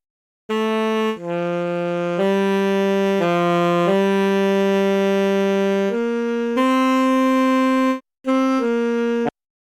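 A dry alto saxophone from the free Iowa Alto sample plugin plays a slow phrase of sustained single notes, clean and close with short gaps between them and no other sounds.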